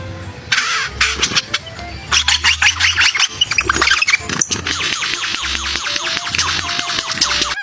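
A lyrebird runs through varied mimicked bird-like calls and mechanical-sounding bursts, fairly loud and close, shifting rapidly between chirps, squawks and engine-like rumbles.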